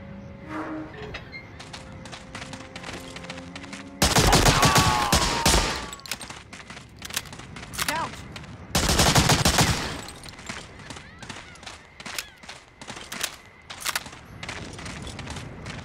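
Gunfire from the video game Medal of Honor Allied Assault: scattered close single shots rattle throughout, broken by two loud dense bursts of rapid fire lasting a couple of seconds each, with brief voices and a faint tone near the start.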